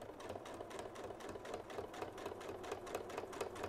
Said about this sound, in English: that's all there is to it, is just stitching in the ditch all the way down to the end